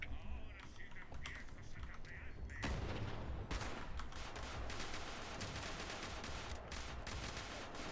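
Dense, continuous gunfire from a machine gun in Fallout 76, a loud sustained burst running for several seconds with clipped, crackling texture, no talk over it.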